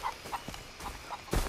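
Chickens in the video game Far Cry 3 give a few soft, scattered clucks at moderate distance, followed by a louder thump near the end, with quiet game ambience between.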